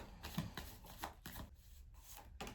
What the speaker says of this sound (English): Shuffle the cards and then put 5 up